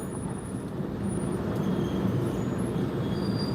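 A Genesee and Wyoming freight train rolls past at close range, a steady broadband rumble of railcars and wheels with thin high squeals of the wheels on the rails running above it throughout.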